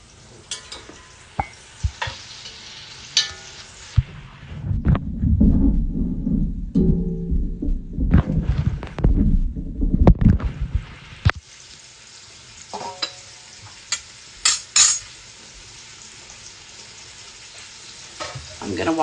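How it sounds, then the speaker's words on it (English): Steady crackling sizzle of beef cubes frying in hot oil on high heat, loudest in the middle with sharp pops and clatters scattered throughout, no talking. "So we'll keep that frying on high heat."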